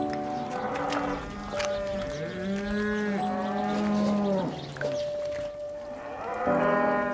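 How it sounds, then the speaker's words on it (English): Cattle low repeatedly on a farm in the glens, several long drawn-out moos following one another close by with little pause. "Happy cows."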